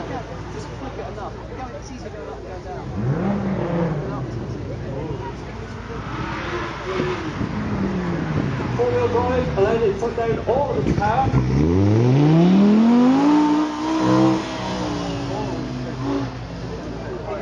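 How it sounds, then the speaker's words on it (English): Previous-generation Audi R8 with a V10 engine, revving and accelerating loudly with a rising, sweeping engine note that peaks near the end, while someone talks over it throughout. "previous generation Audi R8 with the V10 engine"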